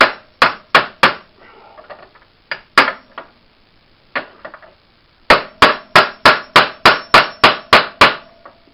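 Repeated hammer blows while a silent bloc bushing is changed, sharp metallic strikes in irregular groups: a few early hits, scattered single blows, then a fast steady run of about ten near, loud strikes with no talking.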